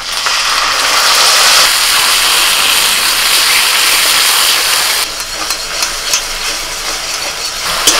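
Tomato paste hits a hot pan of fried ginger and chili paste, giving a strong, steady sizzle that later settles into a quieter, crackling fry with small pops.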